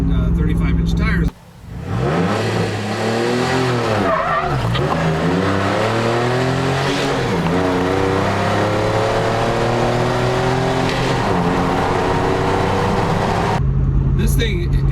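A Jeep Rubicon 392 with a lift and 35-inch tires accelerates hard, its V8 exhaust roaring loud and close through several rising gear pulls with a brief tire chirp.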